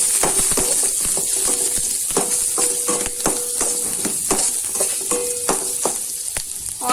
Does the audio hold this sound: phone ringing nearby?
no